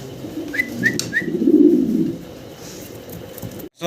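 Fancy pigeons coo in a low, throaty murmur that swells in the middle and then fades, with a few short chirps above, and no talking.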